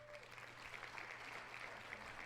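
A short cheering and applause sound effect is played, with a crowd clapping and cheering steadily at a faint level throughout.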